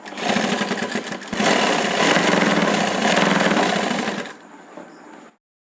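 A sewing machine runs a double line of stitching along a kurti side seam, a loud close steady whir with a brief pause near the start, then slowing and stopping.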